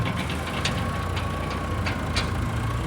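A Mahindra Thar's engine runs steadily in heavy snow in the high village of Kibber while its tires spin, giving a continuous low rumbling drone without breaks, close and moderately loud, with no talking.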